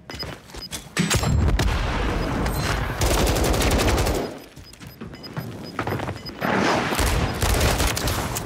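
Rapid bursts of MCW rifle fire in Warzone crackle loudly and almost continuously, with short pauses between volleys and a brief lull around the middle.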